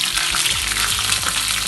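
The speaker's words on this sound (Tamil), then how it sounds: "இப்போ பூண்டை போட்டுக்குவோம்." Garlic frying in hot sesame oil for a prawn curry, a loud, steady close-up sizzle with bubbling crackle that carries without a break.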